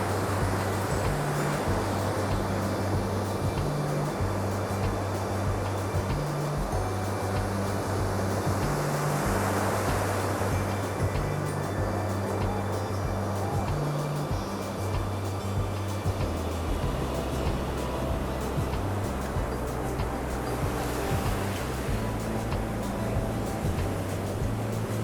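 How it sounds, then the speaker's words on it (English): Gentle ocean waves roll onto a Spanish beach at sunset, a continuous soft wash of surf with slow swells rising and falling, steady and moderately distant with no voices. "You can see the waves aren't huge."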